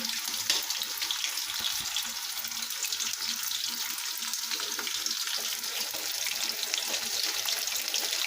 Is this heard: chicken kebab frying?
yes